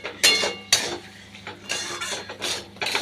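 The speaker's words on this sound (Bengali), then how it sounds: "গুড় দিয়ে নাড়াচাড়া করে" A spoon stirs teasel gourd curry in a pot after jaggery goes in, making a run of close scraping strokes and metallic clinks with short quiet gaps between them.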